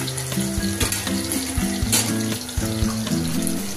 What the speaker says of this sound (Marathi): याच्यामध्ये कढीपत्ता टाकायचा, आपण हलवून घ्यायचा असं.